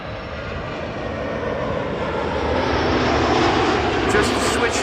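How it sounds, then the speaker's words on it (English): A TAP Air Portugal Airbus arrives at Amsterdam Schiphol Airport, its engines giving a broad, steady roar that slowly swells over a few seconds, heard from fairly close. "In the meantime, a top Air Portugal Airbus is arriving."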